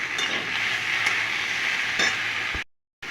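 Chopped snake gourd tipped into a pan of hot oil with turmeric, salt, chilli powder and tomato, giving a close, steady sizzle and frying hiss with a few stirring clatters before cutting out.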